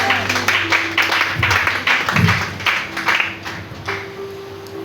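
A church congregation applauds and cheers in praise, a steady wash of clapping with rhythmic accents and voices running beneath it, moderately loud throughout and close to the listener.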